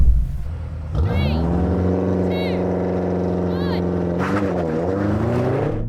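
BMW M5 sedans, G90, F90 and F10, launch in a drag race with a loud, sustained engine roar that climbs steadily in pitch, a few gear-shift dips breaking it, and people talking over it.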